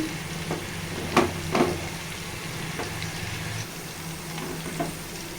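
Chopped tomatoes go into a hot pan for a fish curry and sizzle, a soft steady frying hiss with a few sharper crackles and stirring scrapes, fairly quiet and with no voices.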